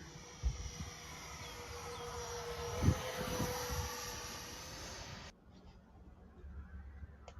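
RC model airplane coming in to land, its engine a thin steady drone that stays faint and distant under light wind noise and then cuts out near the end.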